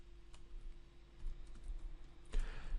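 Light keystrokes on a computer keyboard while entering JSON code on a Raspberry Pi, a handful of quiet, sparse clicks over a faint steady hum, with one slightly louder tap near the end.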